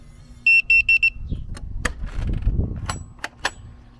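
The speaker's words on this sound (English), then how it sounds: "I heard the lock go and I heard that beep." A Carmtek 10-digit RV keypad lock sounds four quick, loud electronic beeps in a tight even row, followed by clicks and rustling of handling nearby.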